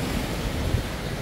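Steady surf washes onto a beach by a seaside campsite, a continuous broadband roar with wind buffeting the microphone and no voices.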